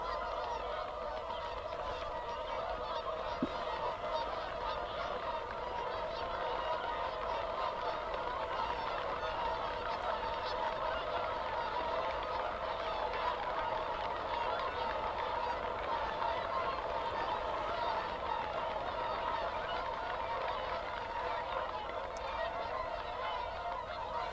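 A large flock of swans and other waterbirds honks continuously at a distance over a fenland wetland reserve at dawn, a dense, unbroken chorus of calls throughout.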